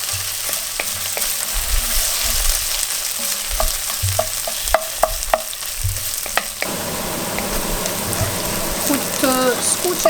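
Onion frying in a pan for an old Albanian Shkodra-style stew, with a close, continuous sizzle and scattered scraping clicks of stirring, the sizzle swelling louder in the last few seconds.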